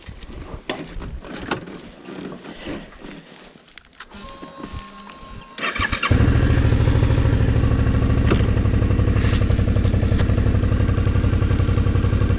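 A Suzuki V-Strom motorcycle on a mine road starts up after some handling clatter, its engine settling into a loud, steady close idle and running for several seconds with no talk.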